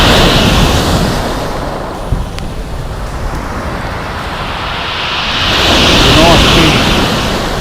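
Big storm waves crash onto Sandgate Beach during Storm Arwen, a loud, continuous roar of surf and wind that swells near the end.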